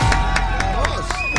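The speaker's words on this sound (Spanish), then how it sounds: "Aplausos." Audience applause and cheering from a live crowd, a short dense burst of claps and shouts with whistles rising through it.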